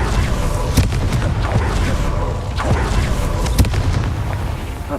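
A Confringo fire spell explodes in the Hogwarts Legacy video game, with booming blasts and sharp bursts over a dense, loud rumbling background throughout.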